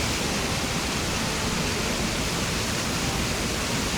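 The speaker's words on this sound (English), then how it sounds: "The sound of the waterfalls is even so soothing." The cascading water of a waterfall on an Animal Crossing: New Horizons island makes a steady, broadband rushing hiss, constant and unchanging with no voices or other sounds over it.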